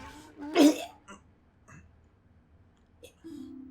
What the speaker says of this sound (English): He coughed up something green.